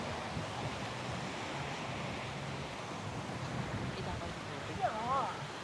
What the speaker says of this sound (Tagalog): Kasi medyo may kalakasan yung hangin at alon dito.